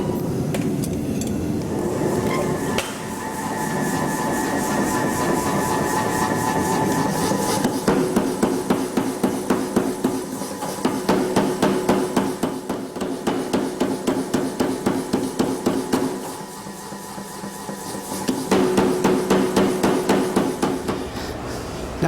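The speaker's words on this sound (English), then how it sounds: "heat them and run them under the hammer to thin the edges" A blacksmith's power hammer pounds heated steel plate to thin its edges, a rapid, steady train of metallic blows that starts and stops in bursts over a shop hum, with no speech.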